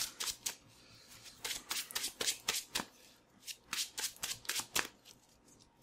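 Magic: The Gathering cards are riffle-shuffled close up, a rapid series of crisp fluttering bursts repeating in quick succession without talk.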